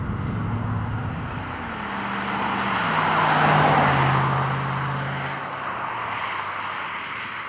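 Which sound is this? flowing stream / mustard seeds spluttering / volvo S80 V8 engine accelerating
volvo S80 V8 engine accelerating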